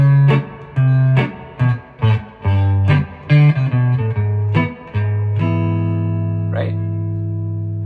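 A western swing fill on electric guitar, from a lesson: a clean run of separate plucked single notes and chords descending step by step, then one long ringing held chord, alone and close.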